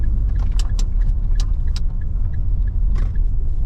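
A lowered car drives slowly along a dusty rural dirt road with the windows closed, producing a loud, close interior rumble with sharp rattles and clicks from gravel and bumps.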